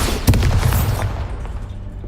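A Bombarda blast spell goes off in Hogwarts Legacy, a single heavy booming burst with a sharp onset and a rumbling low tail that fades over about a second, heard alone.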